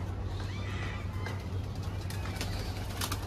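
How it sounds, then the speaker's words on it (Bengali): A caged dove cooing nearby, soft low calls over a steady background hum, with faint chirps from other birds. "চলেন এখানে দেখাই। এখানে আমার একটা ঘুঘু আছে।"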